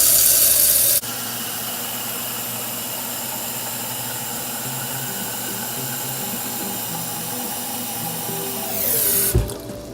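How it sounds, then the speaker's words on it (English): Tap water pours into a pot in a steady, loud rush for several seconds, then the flow shifts and tapers off near the end. "take the pot and fill it up to water, up to the half of the pot"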